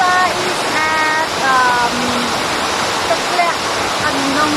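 The Anlong Cheung Chab Waterfall in Cambodia roars loudly and continuously as a dense wash of falling water, with a voice speaking faintly over it.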